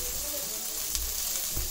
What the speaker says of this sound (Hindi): इस प्रकार से हमारी जो कलाड़ी तैयार हो गई है, अभी भी हो रही है वैसे तो, ये देखो किस तरह से उबल रही है।